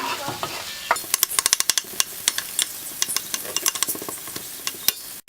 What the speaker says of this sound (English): In a pot now we put a little bit oil, we add the onion